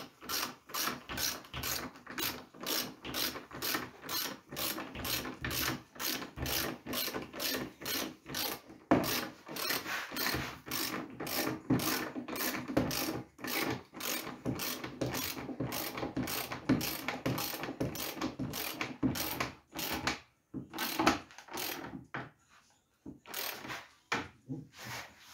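A socket wrench ratchets a bolt tight through a washer while a conference table is converted to a dining table, with a fast, steady run of close clicks for about twenty seconds before it slows into separate strokes.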